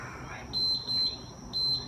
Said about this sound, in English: You can just lower that weight when the beeper goes off